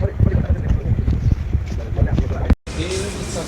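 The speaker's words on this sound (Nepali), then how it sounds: "हावा पनि कति साह्रो आएको हौ हेर्नु" Strong wind gusts outdoors in Høje Taastrup near Copenhagen, Denmark, buffeting the microphone with a low, rough roar that surges unevenly, cuts out briefly, then resumes more steadily.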